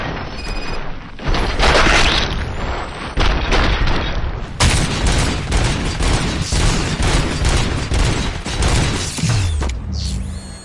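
Film gunfire breaks out on an order to fire in the German-dubbed RoboCop. A loud, sustained volley of many rapid shots hammers in with booming impacts and mechanical clatter. Then it ends in a descending whine.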